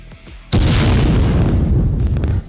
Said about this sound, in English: this is how you cook the grenade